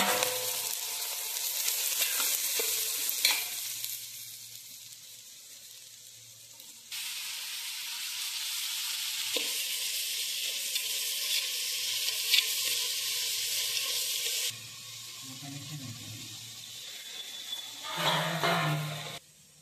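Cumin and then onion hit hot oil for a Khandeshi-style country chicken curry, bursts of sizzling that jump louder partway through, with stirring clatter and a few knocks near the end.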